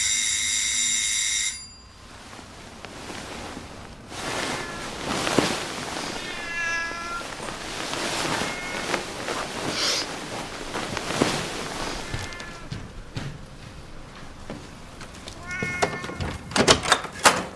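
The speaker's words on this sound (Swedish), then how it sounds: "Är det någon som försöker strypa min katt?" A cat yowls and meows repeatedly amid a busy, loud scene in a Swedish drama, with harmonic cries rising and falling across the clip over background noise and clatter.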